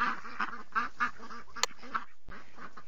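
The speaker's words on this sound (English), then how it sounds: "Those baby ducks are blocking the road!" Baby ducks in a Dora the Explorer video game, a series of short cartoonish quacks repeating in a quick rhythm, close and clear, with a brief click among them.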